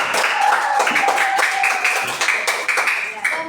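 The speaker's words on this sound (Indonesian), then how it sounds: "Tepuk tangan dulu untuk kelompok 1." Classroom applause for group 1 of a fifth-grade class: a lively burst of many hands clapping together, close and bright, sustained for a few seconds with children's voices chattering underneath.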